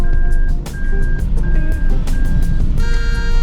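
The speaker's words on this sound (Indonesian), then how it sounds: "Alarmnya bunyi tut kayak bis." A Toyota Celica's reversing alarm beeps in a loud, regular pattern of steady tones over engine and road noise, heard from inside the car.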